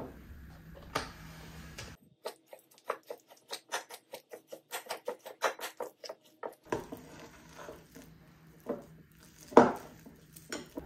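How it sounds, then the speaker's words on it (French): A thick protein bar mixture with maple syrup being mixed by hand, a spoon tapping and scraping the bowl in a quick run of light, even ticks, with duller mixing noise before and after. "Et on mélange le tout."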